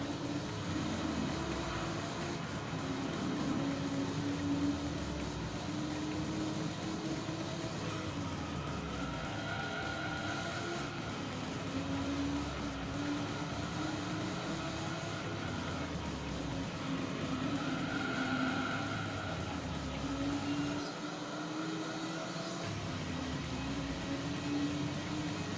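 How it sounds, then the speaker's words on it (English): Race car engines in Gran Turismo 3 droning steadily and loudly with repeated rising and falling pitch sweeps, as a Ruf 3400S Porsche Boxster is passed during a lap. "I'm just passing Roof 3400S, known as Porsche Boxster"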